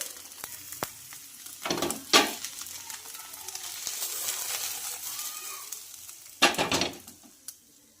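Vegetable uttapam sizzles and fries on a hot pan, a steady crackle broken by a few louder bursts of stirring or scraping, close and alone without voices.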